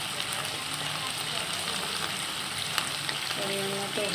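Ash gourd and potatoes with lentil paste stir-frying in a pan, a steady close sizzle with faint scraping from stirring and a short tonal sound near the end.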